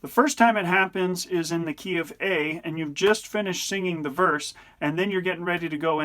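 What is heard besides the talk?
None of the usual background noises is heard.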